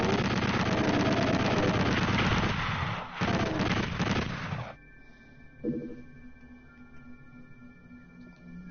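Enemy gunfire in a video game, a dense roaring barrage of shots that cuts off abruptly, leaving a quiet electronic hum with a faint blip.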